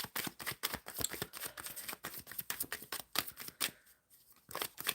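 Tarot cards riffled and shuffled in quick, dense bursts of crisp slaps and flutters, close and fairly quiet, with a short pause near the end before the shuffling resumes.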